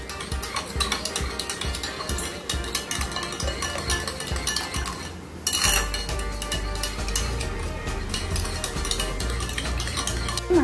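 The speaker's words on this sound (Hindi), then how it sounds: "इसे हम फेंट करके रख देंगे ताकि चीनी दही में अच्छे से मिल जाए" Curd being whisked with sugar in a bowl while making dahi vada, a steady busy run of scraping, clinking utensil strokes against the bowl, close and continuous with a short pause midway.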